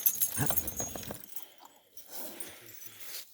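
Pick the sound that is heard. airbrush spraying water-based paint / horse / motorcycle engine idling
horse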